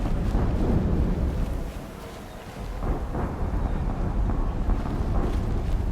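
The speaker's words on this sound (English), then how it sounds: "There's something stomping around out there. And it's something big." Deep, heavy booming rumble in Horizon Zero Dawn, like something enormous stomping far off, rolling low and continuous with a brief dip midway, no talk over it.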